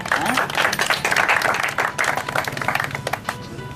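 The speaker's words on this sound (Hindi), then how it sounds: "ताली ताली ताली" A group claps hands together in a crowded room, steady dense clapping mixed with overlapping voices and chatter throughout.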